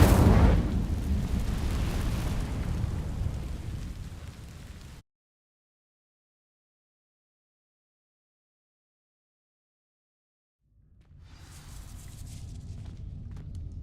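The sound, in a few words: Incendio fire spell igniting dry vines in the video game Hogwarts Legacy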